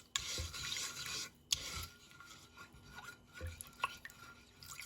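Soft scraping and swishing of a utensil stirring a wet yeast-and-water mixture for pampushky dough in a bowl, quiet and close, in uneven strokes with small clinks.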